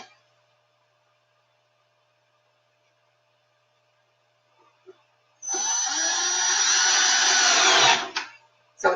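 A power drill drives a screw into a wooden sign, one loud continuous whirring burst of about three seconds after near silence, ending abruptly.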